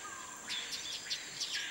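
A scarce, endangered Brazilian bird calls in a few short, high chirps, fairly faint, over a steady thin hiss of background insects.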